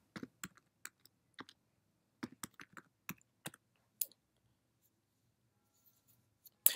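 Quiet keystrokes on a computer keyboard come in short irregular bursts of clicks with pauses between, close and faint, ending with a slightly louder click.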